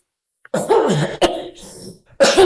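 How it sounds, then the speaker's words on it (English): A person coughs, then clears their throat in a few harsh bursts, close and fairly loud, separated by short pauses. "I have to cough and clear myself every time"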